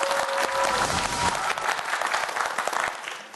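Hearty applause from a studio audience at a Korean TV science quiz show, a steady dense clapping that holds for a few seconds and then starts to thin out.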